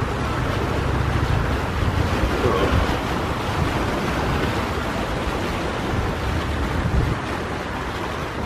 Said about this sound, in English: I'm gonna sit here and listen to this ocean water.